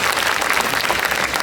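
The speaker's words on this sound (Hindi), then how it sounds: "तालियां थोड़ी जरा अच्छी रहनी चाहिए आपकी।" A crowd clapping at a Hindi poetry gathering, a loud, dense burst of many hands close by that lasts only a moment.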